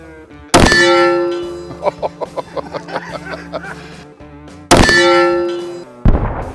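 A rifle bullet strikes a steel target with a loud, sharp metallic clang that rings out; a second hit and a brief third impact follow a few seconds later, with fainter ringing tones in between.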